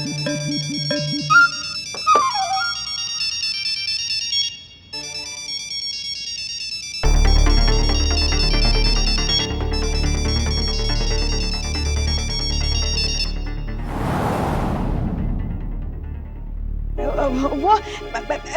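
A mobile phone rings with a melodic electronic tune in a Hindi TV sitcom scene. The bright looping melody sounds loud and close for several seconds, with softer tones before it and brief other noises after.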